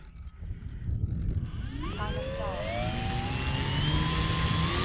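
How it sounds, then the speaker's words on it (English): Radial engine of a PT-17 Stearman biplane taking off from tall grass, a loud, rising roar that builds steadily as power comes up and stays close and continuous. "let's see if we can take off in this taller grass again"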